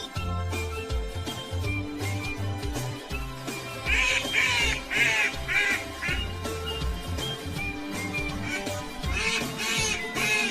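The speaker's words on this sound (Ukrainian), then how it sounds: "Дикі качки." Clusters of raspy quacking from wild ducks break out over background music, first a run of calls midway, then another burst near the end.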